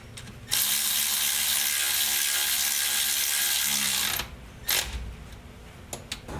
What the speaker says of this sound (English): I just finished tightening to 50 foot-pounds, 3 of the 4 14mm bolts